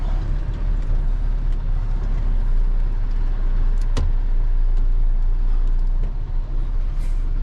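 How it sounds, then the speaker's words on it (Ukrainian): A MAN truck hauling a heavy Komatsu load runs with a loud, constant engine drone close by, steady throughout with one brief sharp click midway. "Ще на другий раз наш ман трошки пішов у нагрузку, та все їздить на холостому"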